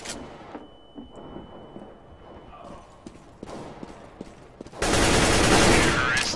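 Automatic rifle spray in the tactical shooter Counter-Strike: Global Offensive, a loud dense burst of rapid gunfire erupting after a quieter stretch of scattered clicks and movement, sustained to the end.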